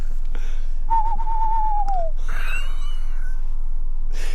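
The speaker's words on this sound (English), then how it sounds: "that's a tawny owl. Yeah. You can tell by the sound." Tawny owl calling at a cave wildlife site, a single wavering whistled hoot followed by softer breathy calls, fairly close over steady background noise.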